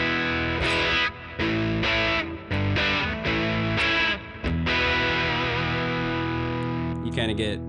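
Guitar through a JHS Kilt fuzz pedal with only gain 2 engaged: choppy, strummed fuzzy chords in bursts separated by short gaps, loud and upfront, ending with a brief squeal.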